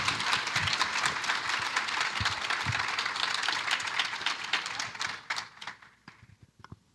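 A community forum audience at the City Club of Cleveland breaks into steady, full applause that fades out toward the end, dense clapping with no talk over it.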